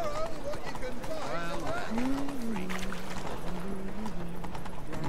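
Roach the horse runs in The Witcher 3, hooves clip-clopping in a quick steady rhythm beneath continuous talking and a soft whinny.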